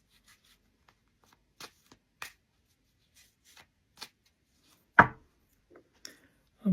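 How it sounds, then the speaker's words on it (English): A pack of playing cards is shuffled slowly by hand, giving sparse soft card snaps and taps spaced irregularly against near silence, with one sharper slap toward the end. "First of all, I will shuffle the pack."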